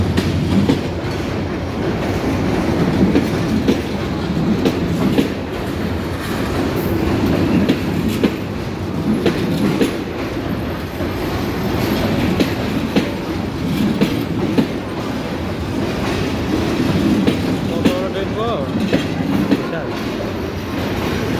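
Train journey from Natore to Joypurhat: a steady, loud rumble of a rail carriage with rhythmic clickety-clack of wheels over the tracks, continuous throughout, with faint voices now and then.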